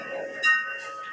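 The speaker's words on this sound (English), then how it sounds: "You hear the bell." A single bell rings once, a brief clear chime over steady background hum in a large hall where a teacher is lecturing.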